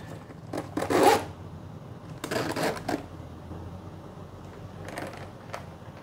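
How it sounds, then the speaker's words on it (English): White zippers on a Valve Steam Deck carrying case are pulled open in short scratchy bursts, two longer zips followed by a quicker, fainter one, close up and with no speech. "Cool white zippers."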